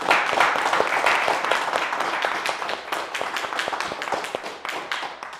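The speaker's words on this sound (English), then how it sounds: "Give yourselves a round of applause for showing up." A smaller audience at the Orlando Mega Mansion event gives a round of applause, where individual hand claps stand out clearly within a lively, uneven patter that gradually thins out over several seconds.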